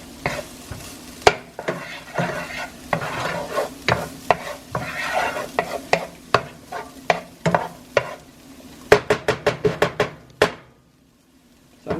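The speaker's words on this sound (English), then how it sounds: "We're gonna let these onions cook a little longer." Onions for taco eggs cook in a pan with a low sizzle, punctuated by repeated sharp scraping and tapping from a utensil stirring against the pan, a quick burst of clacks near the end before it goes quiet.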